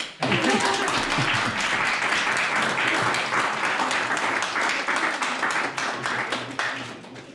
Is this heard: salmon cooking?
no